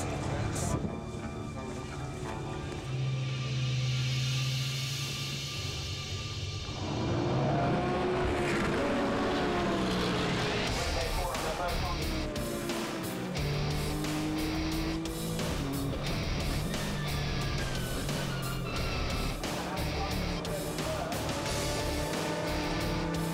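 Engines drone and then surge as a pack of race cars accelerates away at the start of a 2-hour endurance race, rising whines and roaring passes layered over an announcer's voice.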